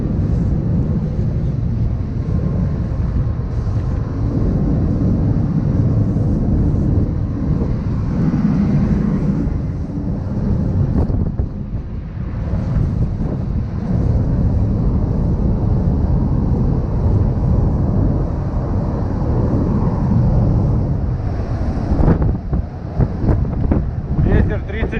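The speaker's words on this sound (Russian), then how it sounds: "Ветер 30 метров в секунду." Strong wind of 30 m/s sweeps across a research ship in Antarctica, a loud, continuous roaring buffet that batters the microphone, with gusts swelling and easing throughout.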